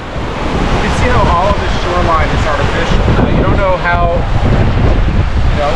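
The Niagara River rushes loudly, a broad steady roar of fast-moving water mixed with wind buffeting the microphone, while a person talks over it.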